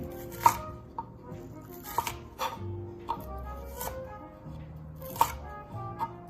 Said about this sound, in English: small cuts across the onion, and then as close as I can, go back in the other direction